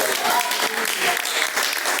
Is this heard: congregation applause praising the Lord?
yes